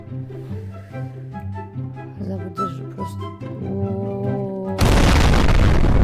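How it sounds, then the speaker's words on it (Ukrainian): A bomb from the GWarheads mod in Garry's Mod detonates in a loud, sudden broadband blast near the end, cutting in over game music and a talking voice and holding as a sustained roar. "дивіться, це вже огромний зрив був просто"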